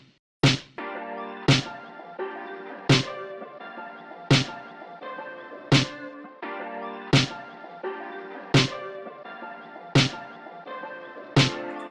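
Vintage-style boom bap drum hits from an 8-bit drum kit: nine loud, evenly spaced punchy strikes roughly every 1.4 seconds, each followed by a sustained ringing tonal tail, with no talk.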